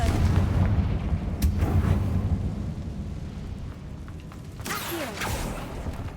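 A Confringo spell explosion in a video game, with a heavy rumbling blast early on, then crackling mechanical debris and a second burst of bright crackle near the end.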